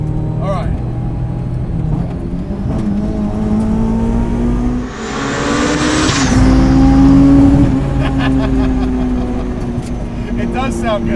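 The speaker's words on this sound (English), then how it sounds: "It does sound good when you hit the rev limiter" Supercharged 385-whp Honda S2000 track car revving hard up to its rev limiter, a loud rising engine wail with a gear-change dip, then sustained high-pitched revs bouncing off the limiter; voices talk underneath.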